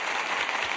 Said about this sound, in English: Let's give Miko a round of applause.